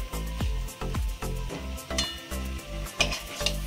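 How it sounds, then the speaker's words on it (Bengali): Drumstick flower fritters frying in oil over very low heat, a steady close sizzle broken by a run of soft scraping stirs as the pieces are turned, with no talk. "এইরকম উল্টে পাল্টে ভাজতে হবে। খুব ধিমি আঁচে ভাজছি আমি।"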